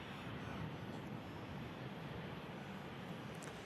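An EasyJet Airbus A320 inbound from Lisbon approaches to land, its steady broadband engine roar filling the whole stretch at a fairly constant, moderate level with no voices over it.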